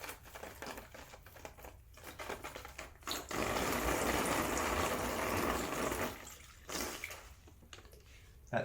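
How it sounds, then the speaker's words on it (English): Three litres of lukewarm water poured into a container to soak a compost substitute for starting seedlings, a steady close rushing pour lasting a few seconds amid softer handling sounds. "I'm going to pour my 3 litres of water in"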